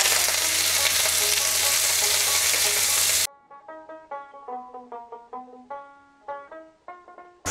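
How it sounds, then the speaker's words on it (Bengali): Cauliflower pieces frying in hot oil for singara give a loud, dense, steady sizzle that stops abruptly partway through, followed by a run of melodic tones. "এবার ফুলকপিগুলো ছাড়ছি।"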